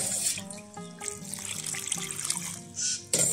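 Water poured from a tap-like stream onto dry coconut husk to soak it, a steady close trickling and splashing pour with shifting pitch that pauses briefly near the end before resuming.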